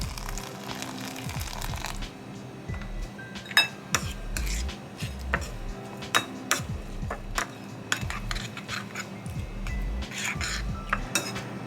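A spoon stirs oatmeal in a pot in a small condo kitchen, producing repeated irregular metallic clinks and scrapes against the pot, fairly close and with no talking.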